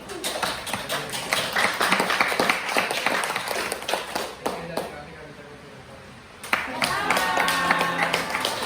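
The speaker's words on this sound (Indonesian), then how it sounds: "beri tepuk tangan untuk kelompok ini" A classroom group claps in a burst of scattered, close applause that fades briefly, then picks up again with voices in the room.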